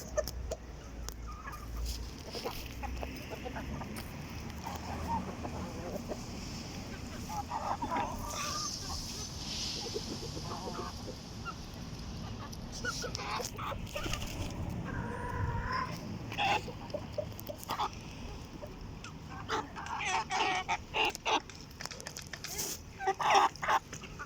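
Brazil breed hens and other poultry, among them fighting cock stock, cluck and honk intermittently at moderate distance over a quiet, scratchy yard background.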